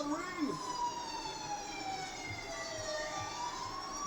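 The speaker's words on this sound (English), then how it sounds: "Turn off the siren." An ambulance siren wails at a wrestling event, its rising and falling tones sweeping continuously across the whole stretch, moderately loud with crowd and room noise beneath.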